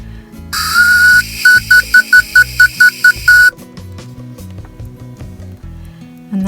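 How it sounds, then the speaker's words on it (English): A shrill whistle blown from a carrot: one long note, then a rapid series of short toots, followed by quieter handling noises. "that is how you can easily make a carrot whistle"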